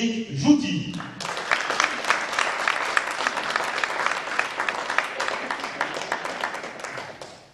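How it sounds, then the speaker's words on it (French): A crowd at a Jura Morez versus Istres table tennis match applauds a player being introduced, the clapping swelling in after a brief moment of announcer's voice and holding as a dense, fairly loud wash before tapering. "Merci d'applaudir Éric Jouty."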